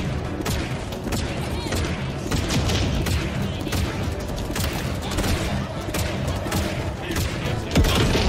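Rapid bursts of gunfire in the video game Halo Infinite, repeated sharp shots and booms layered over a continuous busy battle din, with a voice speaking briefly.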